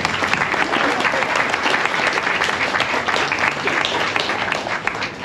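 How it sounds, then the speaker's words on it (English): Dense, sustained applause from an audience at the reopening ceremony of Beacon House, many hands clapping evenly throughout with little or no talking. "You may applaud."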